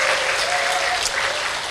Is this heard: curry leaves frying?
no